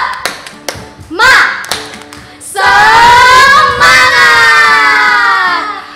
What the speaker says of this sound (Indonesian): kita mau tepuk semangat dulu nih, biar kita semakin semangat lagi